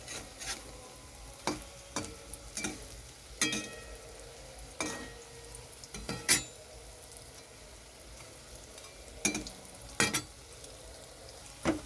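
Battered banana blossom chops crackle gently in a shallow film of oil while a utensil taps and scrapes the pan now and then, the sizzle low and constant beneath the sharper knocks.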